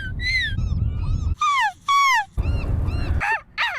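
A person imitates a seagull at a seagull calling contest during an annual Port Orchard festival: loud, strained gull-like squawks with falling pitch, in several bursts over a steady crowd murmur.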